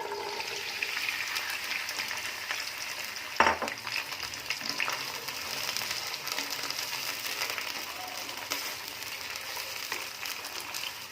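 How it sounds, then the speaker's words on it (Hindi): Half a kilo of kachnar, orchid tree buds, fries in hot oil over a low flame with a steady close sizzle, marked by one sharp clatter early on and occasional stirring. "कचनार को जो है आप लोगों ने बिल्कुल हल्की आंच पे आपने इसको फ्राई करना है"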